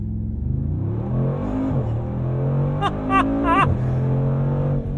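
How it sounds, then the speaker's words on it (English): A 577-hp 2021 Mercedes-AMG G63 in Sport Plus mode launching at full throttle: a close engine roar climbs steadily in pitch, drops briefly at each gear change and then surges upward again. "we have to start with some full tilt acceleration"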